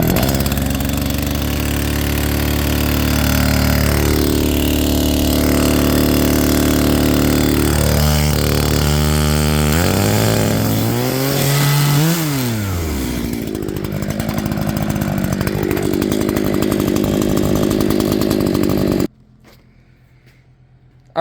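A chainsaw fires up after a pull start and keeps running loud and close, its engine buzz rising and falling through revs before settling to an idle, then cutting off abruptly.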